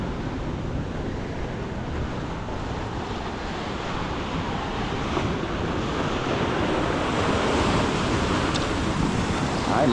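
Ocean waves roll and break on a small beach at Arraial do Cabo during high tide, a continuous broad surf wash with wind buffeting the microphone throughout.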